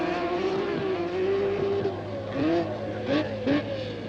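A 1980 rallysprint car on a very slippery stage, its engine droning steadily and then revving in several short bursts as the wheels fight for traction, heard from the roadside with faint commentary.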